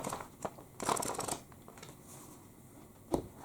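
Book pages flipped quickly, a few papery swishes and soft flutters close by, with a sharper snap near the end and no voices.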